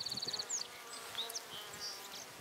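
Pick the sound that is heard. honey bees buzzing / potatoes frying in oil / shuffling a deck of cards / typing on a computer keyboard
honey bees buzzing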